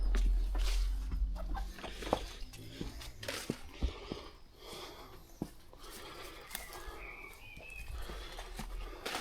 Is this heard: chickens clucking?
yes